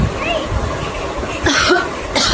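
A voice talks, then a person with a cold coughs a couple of times, close and fairly loud, with a brief pause between the coughs.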